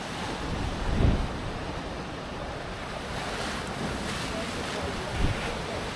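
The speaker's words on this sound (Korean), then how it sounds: "파도가 하얀 포마를 일으키며 부서지는 모습이 장관입니다." Ocean surf breaking into white foam along Sydney's coastal walk, a steady broad wash of crashing waves with a couple of stronger surges and wind buffeting the microphone.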